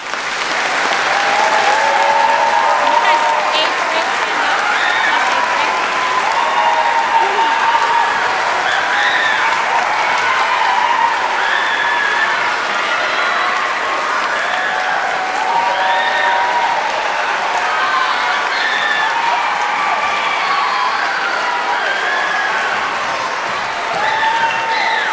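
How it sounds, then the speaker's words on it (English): A school band's audience gives a long, loud, steady round of applause filling a hall, with a sustained crowd wash and occasional cheers mixed in throughout. "honor them with just one gigantic round of applause"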